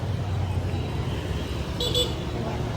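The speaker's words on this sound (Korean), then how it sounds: "여기는 너무 빵빵대. 그지? 응. 사람들이 너무 빵빵대." On a busy evening street in Hoi An, Vietnam, a car horn gives two short beeps over a steady roar of traffic, with people talking nearby.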